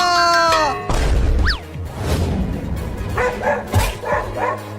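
A dog barks and yelps several times up close, loud irregular bursts with a whimpering high pitch, mixed with a crash and other cartoonish effects in a lively scene.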